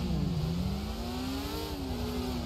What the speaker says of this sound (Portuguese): a CBR acelerando